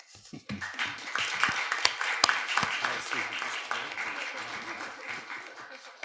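A crowd at a Washington City, Utah city council meeting bursts into sustained applause after an award is presented, a dense steady patter of clapping lasting several seconds at moderate distance in a meeting room.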